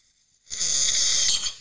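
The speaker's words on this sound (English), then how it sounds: "So you can hear my tongue covering the airway." A person snores on an inhale, with the tongue blocking the airway. After a silent pause, a close, hissing, rasping breath rises and holds for about a second before fading.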